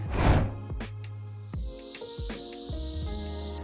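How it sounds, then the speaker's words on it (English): A steady, high-pitched drone of cicadas in a tree sets in and holds loud and continuous, with some low thumps and brief noises beneath it. "These cicadas are loud as hell"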